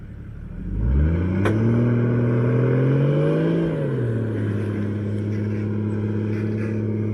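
A V8 Toyota 200 Series 4WD tows a trailer up a desert sand dune, its engine droning loud and close, rising in pitch as it revs and strains, then settling into a steady, heavy hum.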